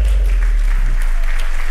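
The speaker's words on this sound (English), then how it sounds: "So let's round of applause." Audience applause greets a speaker taking the stage at a developer conference, a steady, dense wash of clapping from a large crowd that holds throughout the short stretch with no one talking over it.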